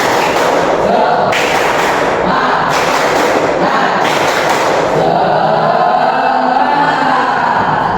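A group of students stands and claps a rhythmic spirit clap in a classroom, loud, close, broadband bursts repeating in a steady pattern.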